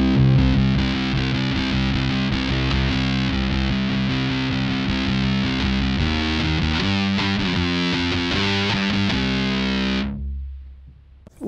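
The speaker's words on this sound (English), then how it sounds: "A lot of fuzz" A bass guitar played through a Bass Big Muff Pi fuzz pedal with the tone knob cranked up gives thick, heavily distorted sustained notes that ring steadily for about ten seconds, then cut off.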